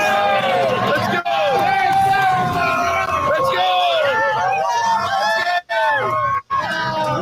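A large cheering crowd at a political rally in Nanaimo, BC, with dense, steady hubbub, whoops and shouts throughout, and speech mixed into the noise.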